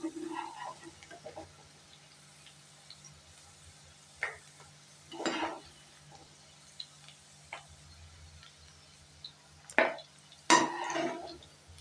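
Okra frying in hot oil is stirred and scooped out of the pan, giving sparse metallic scrapes and clinks of a spoon against the vessel, with a few louder scooping clatters near the end over a faint low background.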